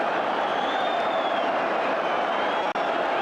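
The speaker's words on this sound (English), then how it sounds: "And listen to the applause" Sustained crowd applause and cheering fill a football stadium at the end of the first half of a 1985 Sheffield Wednesday versus Everton match, a dense steady roar throughout.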